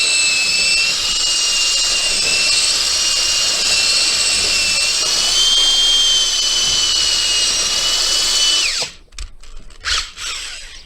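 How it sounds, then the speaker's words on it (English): A 3/8 power drill mixing drywall mud whirs loudly and steadily for several seconds, its pitch dipping slightly under load, then cuts off, leaving a few quieter scraping knocks. "it works with the 3/8 drill, same thing"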